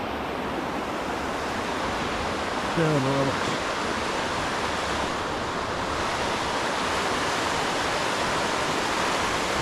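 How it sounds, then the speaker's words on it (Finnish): A small, fast-flowing stream crossed on a hike in a Finnish fell wilderness, giving a steady close rush of water that fills the whole clip, with a brief spoken word partway through. "Tämmönen pikku puro pitäisi ylittää"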